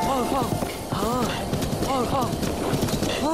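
A horse gallops in Zelda: Breath of the Wild, its hooves clip-clopping in a quick, repeating rhythm at steady volume, with other game sounds layered around the hoofbeats.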